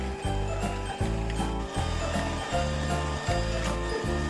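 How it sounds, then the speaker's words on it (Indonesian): Electric mixer running at high speed, whipping eggs with emulsifier for a black sticky rice flour sponge cake; a steady loud motor whir with a rhythmic pulsing pattern repeating about every 0.8 seconds, continuous and alone. "Kemudian ini mau aku mixer menggunakan kecepatan tinggi sampai putih mengembang"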